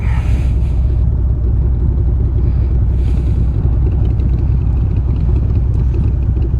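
Steady Highway 3 traffic in flat Texas country near a bridge under construction, a continuous loud low rumble of passing cars and engines with no voices.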